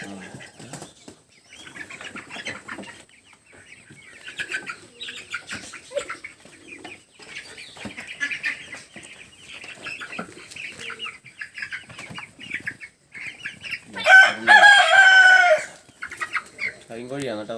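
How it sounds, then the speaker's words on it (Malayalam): Black Kadaknath chickens cluck and wings flap nearby over quiet background, then a rooster lets out a loud, close crow near the end. "കരിങ്കോഴിയാണ് കേട്ടാ"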